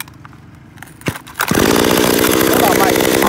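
An Echo 362 chainsaw is pulled over and starts. Quiet rattles and a couple of sharp clacks come first, then the two-stroke engine bursts into a loud, steady, buzzing idle up close.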